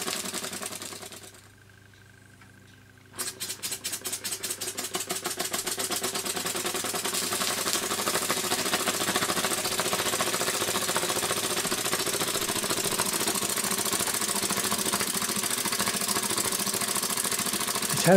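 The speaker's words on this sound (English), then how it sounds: "this engine is not running very well, it keeps running out of steam" An old stationary steam engine, running poorly and running out of steam, chugs steadily after a brief quiet start, its rapid knocking beats loud and close, with the rhythm slightly uneven throughout.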